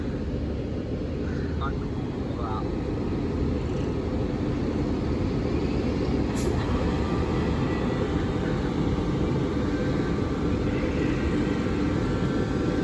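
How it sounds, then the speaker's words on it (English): A delayed South Western Railway service from London Waterloo to Aldershot passes Camberley level crossing, a steady loud rumble and roar that runs throughout, with a brief high squeal partway through. "1822 South Western Railway service from London Waterloo to Aldershot"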